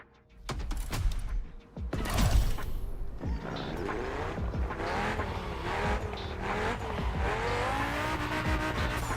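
A car in The Crew Motorfest racing game revs and accelerates, tires squealing through turns while the engine pitch rises and falls, loud and close, with no talking.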